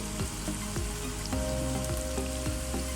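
Whole black peppercorns, whole coriander and ground coriander frying in a pan for beef kofta curry, a dense steady sizzle with a few scraping strokes across three seconds, close and loud.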